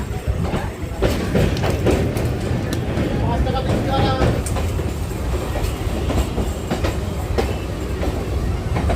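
Train running on the Dum Dum to Majerhat line via Tollygunge, with a steady rumble and rhythmic clatter of wheels on the rails, recorded from on board with a voice talking over the noise.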